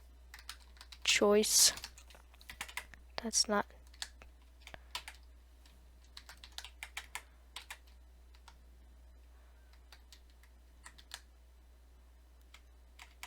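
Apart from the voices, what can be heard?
typing on computer keyboard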